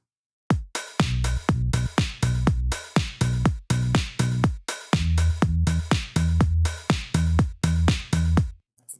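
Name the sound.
house kick drum with soft bass line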